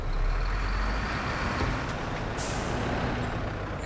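A steady in-game truck engine rumble holds as the handbrake is set on a truck in SnowRunner, with a brief hiss of air and a few faint clicks partway through.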